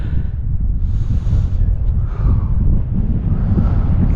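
Strong wind buffets the microphone beside a small mountain lake in a grassy meadow, a continuous loud low roar with gusting surges and no pauses.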